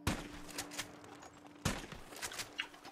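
Two sharp varmint rifle shots at deer in Red Dead Online, spaced about a second and a half apart, each followed by a short echoing tail over faint outdoor ambience.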